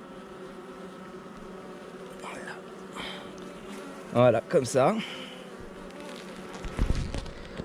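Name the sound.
honeybees buzzing on a brood frame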